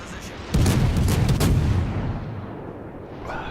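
Warship main guns firing a salvo of rounds over a hill in the World of Warships naval combat game: a loud booming blast near the start, then a rolling rumble that fades away over the next few seconds.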